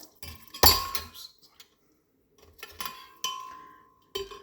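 Metal utensils clink and ring against a pot or glass while a butterfly pea flower drink is strained, a few separate bright strikes with short ringing tails and quiet gaps between, close up and without voices.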